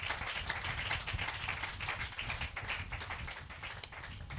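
Congregation at a church service applauding, a soft, dense patter of clapping heard from a distance over a steady room hiss, with one sharp tap near the end.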